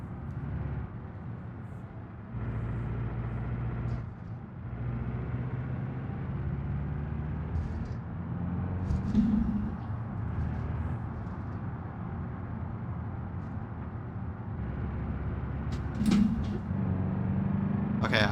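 A car engine in BeamNG Drive, a Subaru-like vehicle, hums and drones at a low, steady pitch while it drives, with a shift in tone around a downshift into third, under someone talking.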